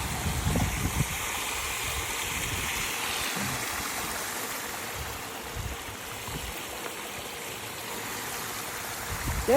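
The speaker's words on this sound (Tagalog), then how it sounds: "So dito nanggagaling yung tubig." Water flows in a small stream in a community garden, a soft, steady trickling rush in the background, with a few faint low bumps and handling noises close by.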